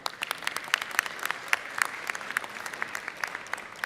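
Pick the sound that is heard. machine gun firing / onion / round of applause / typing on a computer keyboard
round of applause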